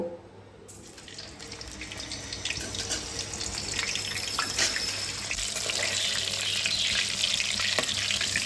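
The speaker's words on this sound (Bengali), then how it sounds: "তেল গরম হয়ে গেছে এবার আমি আলুগুলো ভেজে নেব" Potatoes frying in a generous amount of hot mustard oil in a kadai hiss loudly and steadily. The sound swells after a brief quiet start and holds a dense, even crackle with no talking.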